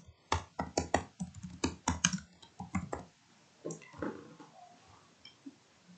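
Keys tapped on a computer keyboard in quick bursts for about two seconds while entering a heading for an online jewelry sale ad, followed by quieter scattered clicks and faint background noise.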